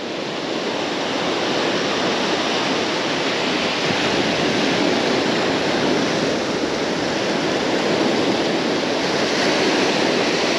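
Ocean surf rushing steadily onto a beach on a holiday weekend, a dense continuous wash of breaking waves close by with no pauses.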